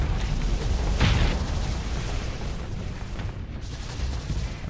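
Missile explosions during a space battle in Starsector, a loud booming burst rising out of a constant roaring din of combat, with softer blasts trailing after.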